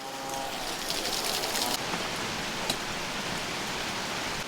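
A Bali waterfall's rushing water gives a steady broadband hiss, like heavy rain, that holds evenly at moderate level throughout, with no voices over it.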